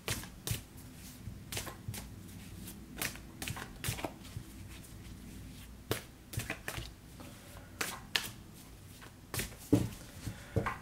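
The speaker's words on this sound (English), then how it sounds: "Just gonna give the cards a good shuffle here." Crisp riffling and tapping of tarot cards being shuffled, in irregular bursts of soft slaps close by, no talking.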